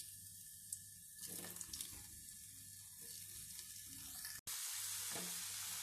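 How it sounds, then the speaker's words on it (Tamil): Cut potato slices fry in hot oil, a steady hissing sizzle that runs throughout with faint bubbling, briefly dropping out before resuming louder. "எண்ணெய் நல்லா காஞ்சிருச்சு. இப்போ நம்ம கட் பண்ணி வச்சுருக்க உருளைக்கிழங்கு அதில் போட்டு"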